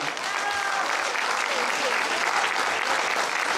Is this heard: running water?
no